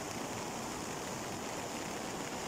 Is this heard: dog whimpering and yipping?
no